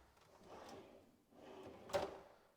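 Soft-close pull-out drawers in lower kitchen cabinets slide open and shut in two gentle passes, the second ending in a soft thud, quiet and close in an otherwise still room.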